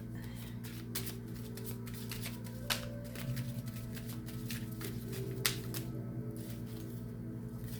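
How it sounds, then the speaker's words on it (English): Tarot cards shuffled by hand up close, a steady stream of soft riffles, slaps and papery flicks with a faint background hum. "One more shuffle."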